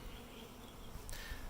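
Honeybees crawl over the screen of a Flow Hive, giving a faint, steady, continuous buzz close by, without any voices.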